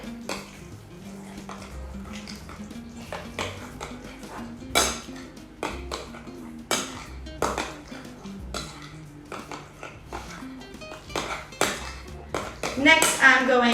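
Plant-based melted butter being mixed into banana bread batter in a bowl, with repeated clinks and scrapes of a utensil against the dish at an uneven rhythm, close by, while a person talks over it.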